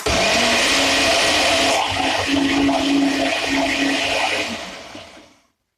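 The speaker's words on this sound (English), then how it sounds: "I normally do that to my blender on first pulse because it brings up whatever ingredient was stuck at the bottom of the blender" A blender pulsing ingredients for Delta-style banga soup: a loud, close whirring roar with churning liquid that shifts in pitch partway through, then winds down to silence near the end, with no talk.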